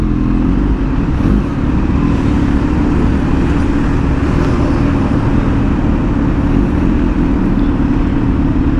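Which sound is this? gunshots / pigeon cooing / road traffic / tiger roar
road traffic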